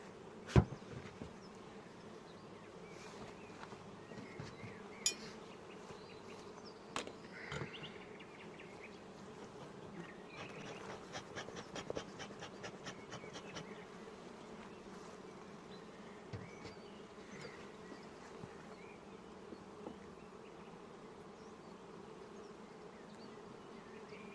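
Honey bees buzz around hives as a crowded colony is moved from a double hive into single hives. The hum is soft and continuous, with faint clicks and handling noises and no talking.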